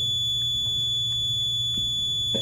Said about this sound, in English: it'll beep because it's a continuity setting